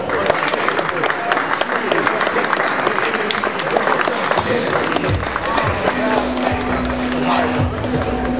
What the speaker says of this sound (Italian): Applausi, grazie